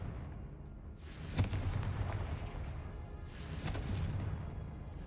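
Confringo blasting spells are cast in the game Hogwarts Legacy: two booming, crackling explosions about two seconds apart over a constant game background rumble, moderately loud, with no talk.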